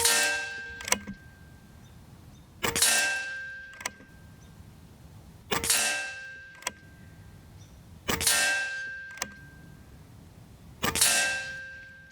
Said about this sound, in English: I loaded 2 more, so we're gonna do 6-shot group.